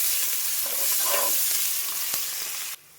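Chicken fry ingredients with coriander and mint being stirred in a hot frying pan, a continuous sizzle with scraping strokes, a sharp tap near the end and the sizzle dropping away abruptly.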